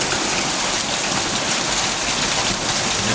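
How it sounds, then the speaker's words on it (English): Steady rain falling on a DIY garden area, a dense continuous hiss of drops spattering on surfaces nearby, even in loudness, with no talking. "The real water, the rain."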